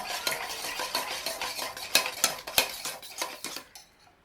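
A spoon stirs rose syrup into milk in a glass or cup, giving steady close clinks and scraping taps in an irregular rhythm for about four seconds, with no voices.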